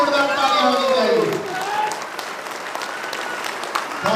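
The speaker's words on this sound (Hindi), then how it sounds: "जब मैं इनका नाम लूं तो अब तक की सबसे जोरदार तालियां बजाना।" Loud audience applause at a Safe Shop event in Samastipur, Bihar, a dense wash of clapping that swells at the start and then settles into a steady, slightly quieter roar that continues to the end.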